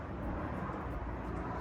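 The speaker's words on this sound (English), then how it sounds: "there's so many planes." A low, steady broadband roar of an airplane passing overhead, faint and continuous throughout with no distinct events and no speech.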